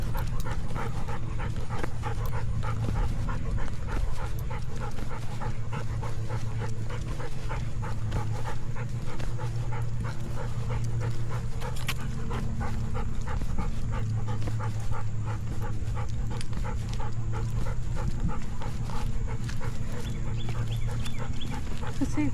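A dog pants steadily and rapidly on a walk, with small whimpers mixed in, close and continuous over background noise.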